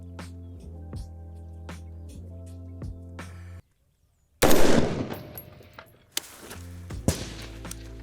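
A single DPMS Kitty Kat rifle shot fired outdoors at a range, a sudden loud crack with a long decaying tail, set against steady background music.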